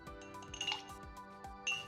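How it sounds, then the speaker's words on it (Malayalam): Several ice cubes clink one after another into a glass, bright and close, with no talking. "അതിന് ശേഷം നമുക്ക് ഐസ് ക്യൂബ് ഇട്ട് കൊടുക്കാം."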